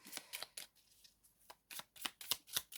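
Tarot or oracle cards shuffled for a card reading, a close, soft series of papery riffles and slaps in irregular bursts, alone in a quiet room.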